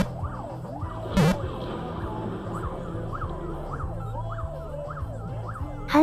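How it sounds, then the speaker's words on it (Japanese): An ambulance siren wails in a repeating rising and falling pattern over steady road traffic noise, with a brief loud burst partway through, no talking. "救急車は、今日も急いで患者を搬送する。"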